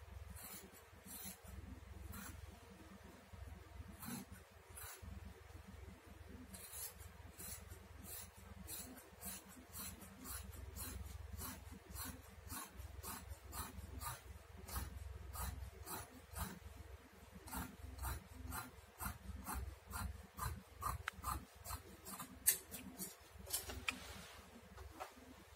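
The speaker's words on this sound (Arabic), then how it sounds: "كده نقصت الجيبة بتاعة الفستان" Scissors snip steadily through dress fabric while the skirt piece of a wrap dress is cut out, giving a long run of quiet, evenly spaced crisp cuts with no talking.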